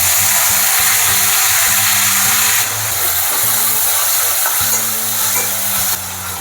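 Loud, continuous frying of ginger garlic paste and tomato pieces for a Telugu fish curry, a dense close sizzle with an engine-like low hum of a stove or fan running underneath.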